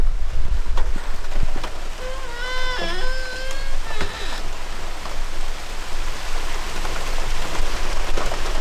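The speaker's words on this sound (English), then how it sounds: "it started to rain pretty heavily. It's raining." Steady hiss of heavy rain pouring down in the Minnesota backcountry, with a few sharp taps and a brief squeaky tone partway through.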